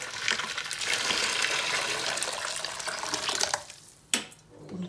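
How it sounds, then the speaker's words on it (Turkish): Water pours in a steady, close gush over a dissolving tablet for about three and a half seconds, then stops abruptly, followed by a brief clink and faint handling sounds. "Şimdi şöyle suyumuzu döküyoruz."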